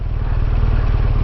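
A BMW R1200RS motorcycle fitted with a Remus exhaust while riding, a loud, steady low engine rumble with a dense, even throb and wind noise, no speech.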